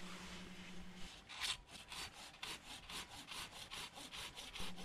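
A pruning saw cuts through a juneberry trunk in rapid, even back-and-forth strokes, a close rasping rhythm of about a dozen pulls that speeds up after a slower start.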